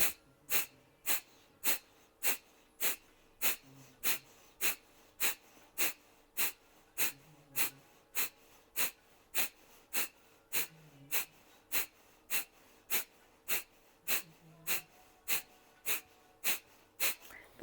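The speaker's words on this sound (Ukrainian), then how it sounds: "не затискаємо шию, розведені лопатки, починаємо дихати капалабхаті" Kapalabhati yoga breathing: a long, even series of sharp, forceful nasal exhalations, about one to two per second, close and distinct over a quiet room with a faint low hum.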